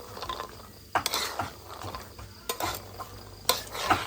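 Two metal spatulas scrape and clack against a pan while stir-frying in a little oil, sharp irregular clinks over a soft sizzle.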